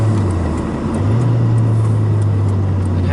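A Nissan 240SX with a 1JZ engine drives with a loud, steady engine drone up close, which steps up slightly in pitch partway through and holds there.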